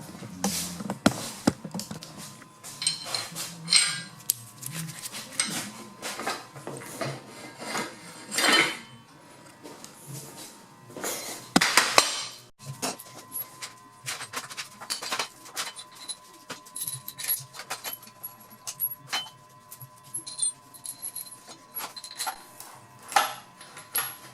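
M12 metal washers handled and clinking in a garage while setting up an engine stand, a long run of bright irregular metallic clicks and jingles, close and fairly loud, with no talking.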